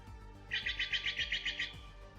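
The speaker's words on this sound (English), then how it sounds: "Stellar Jays. These are some of the cutest birds you'll ever see." Steller's jays call in a rapid series of about nine harsh, evenly spaced notes lasting just over a second, moderately near with no talk.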